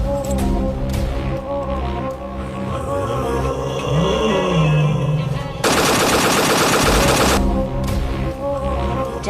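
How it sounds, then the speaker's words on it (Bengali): Cartoon gunfire aimed at a tiger in a Sundarbans hyena-and-tiger fight: a sustained, loud burst of rapid shots erupts midway over an ongoing music and effects bed, then cuts off abruptly. "গুলি চালাও, বাঘটা তো হায়নাটাকে মেরে ফেলেছে।"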